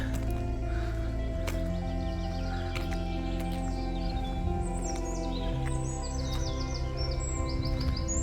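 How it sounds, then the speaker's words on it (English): Birdsong on the Yorkshire coast near Whitby in spring, with several birds chirping and trilling steadily at moderate distance over a constant low outdoor background rumble. "Birds are singing."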